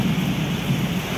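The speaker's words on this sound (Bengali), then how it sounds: "বাইরে বিদ্যুৎ চমকাচ্ছে, ভীষণ মেঘ ডাকছে" Deep continuous thunder rumbling through a storm, with steady rain noise underneath, loud and close throughout with no voices.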